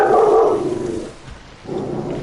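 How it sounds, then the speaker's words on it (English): A female dog indoors, just woken from a nap, gives a loud drawn-out bark or growl, then quiets and lets out a second, weaker one. "Sorry about the dog, chat."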